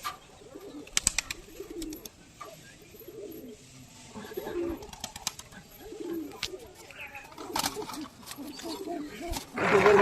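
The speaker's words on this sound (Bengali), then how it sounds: "এটা হলো আমার পাঞ্জাবি মেন ধাড়ি পায়রা, যেটা দিয়ে আমি ব্রিডিং করি" Punjabi high flyer pigeons, a breeding pair, cooing in low repeated throaty calls close by, with some voices and scattered knocks and rustles in the background.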